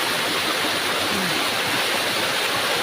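A waterfall in a forest, its steady broadband rush filling the whole stretch evenly, close and continuous with no talk.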